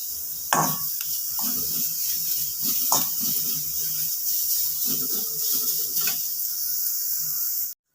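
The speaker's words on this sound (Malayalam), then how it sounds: "എടുത്തു വെച്ചിരിക്കുന്ന തേങ്ങ ഇട്ട് കൊടുക്കാം ഇത് വറുത്തെടുക്കേണ്ടതുണ്ട്" Grated coconut roasting in a pan gives a soft, continuous dry sizzle with occasional scraping and stirring knocks, steady and close throughout.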